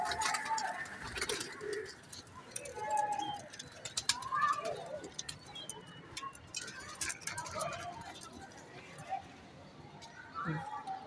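Saharanpuri pigeons coo softly in the background while someone talks over them, with occasional faint clicks and rustles nearby.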